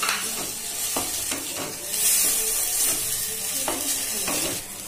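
Grated potatoes sizzle in a pan with fried spice paste while a utensil stirs them, bringing repeated scraping strokes over a continuous crackling fry, close and with no talk.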